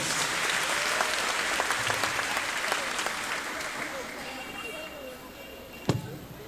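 A crowd applauds at a senior high school event, with loud, sustained clapping that gradually fades out over several seconds, ending in a sharp thump near the end.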